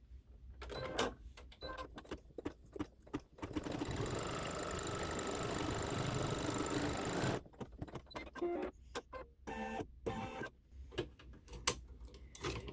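A sewing machine stitches a quilt block in one steady whirring run of about four seconds, framed by irregular clicks and handling taps from the fabric and machine before and after.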